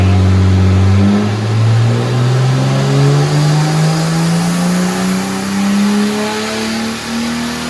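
A car engine revs hard on a dyno during a turbo test, its loud tone climbing steadily in pitch through the run, close and sustained, with no voices.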